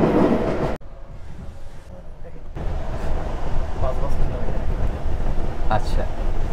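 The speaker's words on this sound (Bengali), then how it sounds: "এটা তো ট্রেন নাকি? এটা দোতলা, আমরা দোতলায় উঠলাম।" Rumbling ride inside a double-decker passenger train travelling through France beside a river, a steady low rolling roar with a brief quieter stretch early on, close and continuous.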